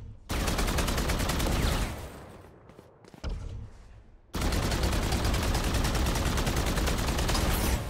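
Rapid automatic gunfire in the Valorant video game, aimed at the orbs of Deadlock's wall, sounds in long dense bursts with a short lull and a few scattered shots in between, loud and close.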